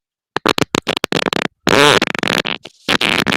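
A rapid series of loud fart sounds, short sputtering bursts in quick succession with a longer buzzing one in the middle, heard up close and alone.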